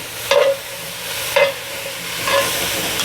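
Black peppercorns and ground allspice get stirred in a cooking pot for choucroute garnie, three scraping strokes of a spoon against the pot bottom over a soft sizzle, close and fairly loud, with no speech.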